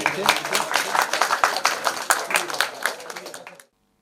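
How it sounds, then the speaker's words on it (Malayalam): A gathering claps for 102-year-old Eliyamma at her birthday honouring: dense, lively applause from a group of people, steady for a few seconds, then it stops abruptly. "എല്ലാവരും ഒന്ന് കൈയടിച്ച്"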